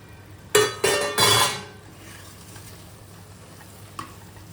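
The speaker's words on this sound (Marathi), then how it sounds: "आता हे जे आपले अख्खे छोले आपण बॉईल करून घेतलेत ना ते यात घालून घेऊया" Boiled whole chickpeas go into a hot pan for chole, hitting with three quick loud bursts of sizzle and scraping stirs near the start, then fading to a quiet simmer with one small clink near the end.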